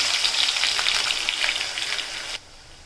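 Spice paste for egg masala curry goes into well-heated oil and sizzles in a bright, spattering hiss that fades slightly, then cuts off sharply near the end, leaving quiet.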